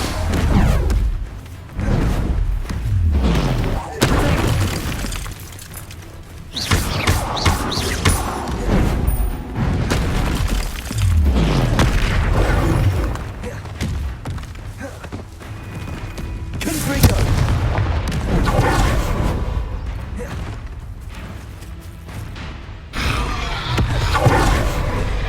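Bombarda and other spell blasts fire in Hogwarts Legacy combat, a long run of loud booms, thuds and crashes coming at uneven intervals, with a voice shouting spell names through the fighting.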